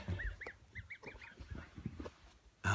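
Several geese honk in quick, overlapping calls close by, followed by a sudden loud thump at the end.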